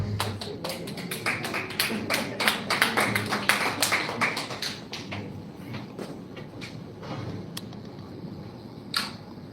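Applause from a reunion audience at an evening reception: many hands clap in a dense, fairly close patter that peaks early, then thins out into scattered claps.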